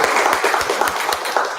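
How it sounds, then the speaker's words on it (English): Audience at a business literature festival in Bangalore clapping: dense, steady applause from a crowd, fairly loud and close, continuing without a break. "A big round of applause for Mr."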